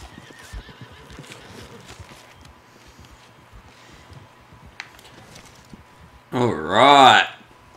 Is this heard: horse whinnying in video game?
yes